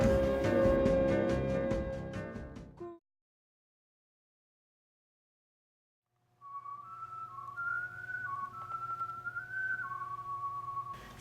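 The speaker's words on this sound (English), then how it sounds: "The beetle was whistling sadly to himself." Whistling in a slow, wavering melody, soft and fairly close, following a stretch of music that ends in silence; no talking.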